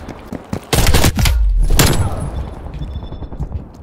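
Shotgun blasts in a first-person shooter gun game, a couple of loud booming shots in quick succession with a heavy low thump, then fading echoes and faint clicks.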